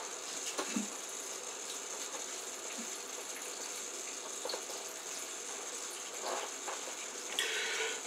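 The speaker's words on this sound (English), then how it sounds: "So I put cold water in to cool these beets off now." Cold tap water pours steadily into a pot of cooked beets, a soft continuous gush with faint clinks and splashes, fairly quiet and with no talking.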